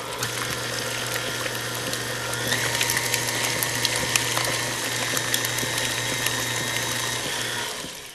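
An electric mixer whirs steadily through batter with a constant motor hum and rattling beaters, running for several seconds before cutting off near the end.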